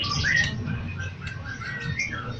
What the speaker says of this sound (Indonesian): Mas Adi Sidoarjo, ini Mas burungnya yang ekor panjang, Mas.